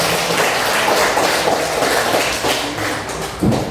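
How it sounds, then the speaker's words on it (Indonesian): A school class applauding a student after her story: dense, loud clapping from many hands filling the room for a few seconds, with a thump near the end. "Kita tepuk tangan untuk Nadine"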